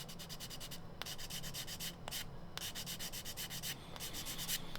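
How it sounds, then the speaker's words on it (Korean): 600-grit sandpaper rubbed over a plastic model car body part in rapid back-and-forth strokes, a dry rhythmic scratching with brief pauses between passes, close and quiet. "그 다음에 조금 남아있는 것들은 이제 사포로 정리를 합니다."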